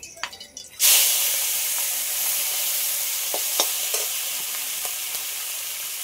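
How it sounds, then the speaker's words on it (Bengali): Shrimp dropped into hot oil left over from frying fish, bursting into a sudden loud sizzle that settles into a steady hiss with occasional pops and spatters close by. "এই মাছ ভাজা তেলের মধ্যে চিংড়ি মাছটাও ভেজে নেব।"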